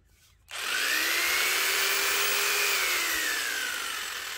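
An old, worn saw blade cuts through laminate flooring, starting abruptly after a brief quiet moment and then holding a loud, harsh, steady whine with a slowly shifting pitch that fades slightly toward the end.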